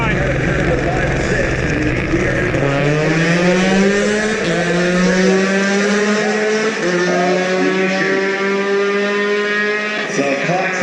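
A USF2000 open-wheel race car slowing on the track's backstretch, its engine note falling through downshifts, loud and droning with strong harmonics under a commentator's voice.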